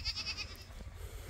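A goat bleats in a cold rural village, a short wavering call of a few pulses at moderate distance, then quieter background.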